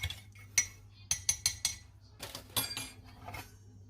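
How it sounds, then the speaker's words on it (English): A spoon clinks against the inside of a cup while stirring coffee from a German field ration, a few sharp metallic taps in quick bursts over a low steady hum, fairly faint and close. "Give our coffee a stir."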